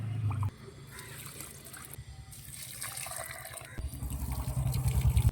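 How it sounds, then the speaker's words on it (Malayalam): Garden plants being watered make a near, uneven splashing and trickling that swells louder toward the end, with some faint sounds in the background. "അപ്പോൾ ഞാൻ ചെടികളൊന്ന് നനച്ചു കൊടുക്കട്ടെ."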